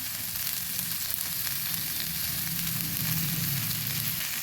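Red lentils and vegetables fry in a pan with a continuous, even sizzle, close and steady throughout with no talk.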